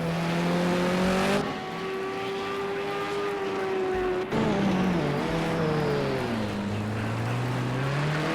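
BMW race cars in Project Cars 2 at a Long Beach street circuit, engines droning and shifting pitch as they pass, with a sharp change as one car gives way to another, loud and steady with no talking.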